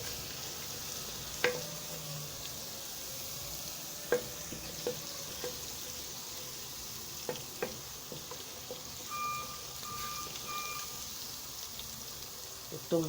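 Garlic frying in a pot for Egyptian koshari, a soft steady sizzle with light stirring scrapes and a few clinks of a utensil, quiet and close.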